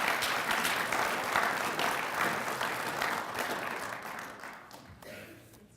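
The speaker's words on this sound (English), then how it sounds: "How about a round of applause for Amanda Jones and her important work?" Audience applause at an annual research lecture event, a dense steady wash of many hands clapping that holds loud for several seconds and then gradually thins and fades toward the end.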